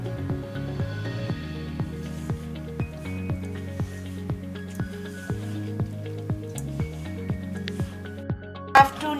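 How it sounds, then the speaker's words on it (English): Chapati-style bhature dough is kneaded with water by hand, giving a regular series of wet squishing slaps about once a second over a steady low background, close and moderately loud. "Have to knead the dough for 5-6 minutes like this well."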